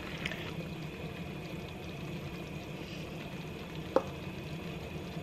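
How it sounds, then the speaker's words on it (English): Beef broth pours into a simmering pan with a faint, steady, low pour and sizzle, and one small clink partway through. "I'm gonna add the rest of my beef broth here"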